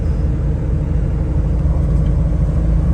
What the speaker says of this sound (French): je suis sur ma vitesse de croisière à 130 sur autoroute